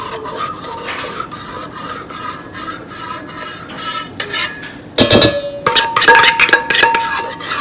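A spatula scrapes a keto almond butter cream cheese pie mixture out of a mixer bowl into another bowl. The loud, rasping strokes repeat close by, with a sharp knock midway before the scraping resumes.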